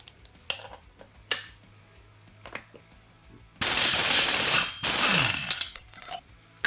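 Socket wrench breaking loose the GY6 clutch nut on a Honda Ruckus: faint metallic clicks and taps, then two loud sustained bursts of impact-like rattling, close and harsh, with no talk.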